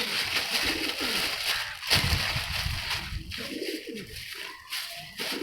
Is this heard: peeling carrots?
no